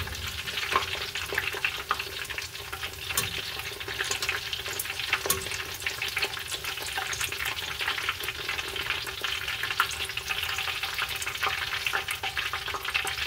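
Shrimp tempura fries in hot oil with a steady, dense sizzle and crackle that runs close and even throughout, with no talking.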